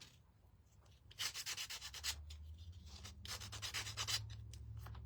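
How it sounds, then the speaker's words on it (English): Sandpaper rubs rhythmically over the small wooden hooves of a deer-shaped door hanger from a craft kit, with close, raspy strokes coming in bursts over a faint low hum and no talking. "So I'm going to sand them right now."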